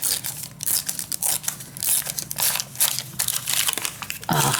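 Masking paper crinkles and rips in close, continuous bursts of dry tearing and rustling, loud and near with no voices.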